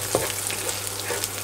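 Holy basil glass noodles with minced pork stir-frying in a pan make a loud, continuous close-up sizzle with soft spatula scrapes over a short stretch, no voices.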